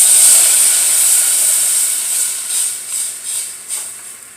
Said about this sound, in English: now I'm going to add a little bit of this veggie broth at a time and whisk it up